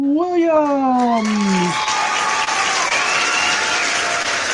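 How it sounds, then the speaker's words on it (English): Canned applause sound effect, a broad steady wash of crowd clapping and light cheering at close, even loudness, preceded by a short musical tone sweep that slides downward. "Fake applause is always gratifying."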